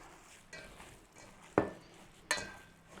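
Minced pork being worked together with spices by hand in a bowl, a few soft squelching mixing sounds with a sharper clack of utensil or bowl near the middle and end, close and fairly quiet.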